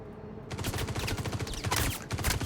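In the video game Star Citizen, rapid bursts of gunfire rattle out in a loud, close fusillade of dense repeated shots that starts abruptly and keeps going throughout, with no talking.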